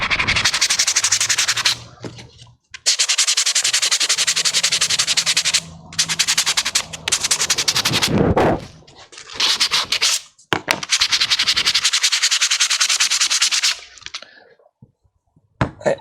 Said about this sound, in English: it would help if you sanded with the sanding side of the paper